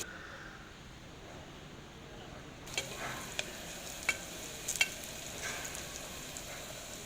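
Onions frying in ghee and oil for mutton biryani: a quiet hiss at first, then a steady sizzle with scattered sharp crackles and pops partway through.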